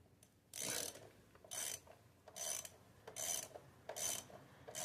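A ratchet tightens the camshaft position sensor bolt on a Cadillac STS 4.6 V8 Northstar, five evenly spaced bursts of rapid clicking, each about half a second long, close and fairly quiet.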